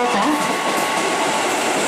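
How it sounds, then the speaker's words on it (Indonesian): Steady rumbling roar of a commuter train at Kramat station, loud and continuous throughout, with a station announcement voice faintly over it. "Rangkaian 12 kereta."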